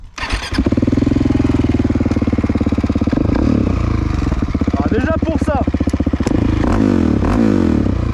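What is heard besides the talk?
Husqvarna 700 motorcycle engine starting and revving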